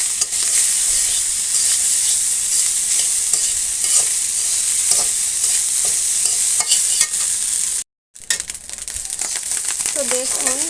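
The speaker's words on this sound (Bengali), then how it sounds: "তো দেখুন আমার এই ভাতটা ভাজি করা প্রায় শেষের দিকে।" Cooked rice stir-fried in a pan: a loud, continuous sizzle with frequent scraping stirs, a brief cut near the end, then faint voices briefly under the frying.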